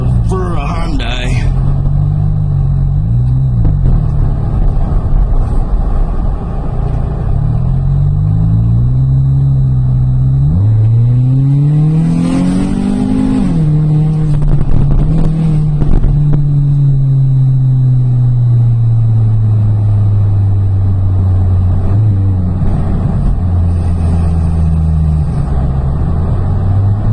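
A 2012 Hyundai Sonata GLS with the 2.4-liter engine and a MagnaFlow exhaust revs up through a low, steady rumble, the pitch climbing and falling in a few sweeping pulls before settling back to a droning idle.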